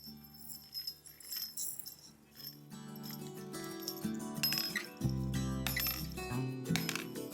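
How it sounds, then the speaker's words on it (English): Small bells dropped into a paper cup for a homemade maracas craft, a run of bright metallic clinks and jingles that settle into a ringing rattle, close and fairly quiet, with no voices. "Next, put our bells inside our paper cup."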